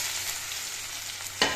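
Bitter gourd sliced into rounds fries in a pan with two dried red chillies and a spoon of mustard seeds for a Kerala pavakka puli, giving a steady close sizzle with a sharper crackle near the end.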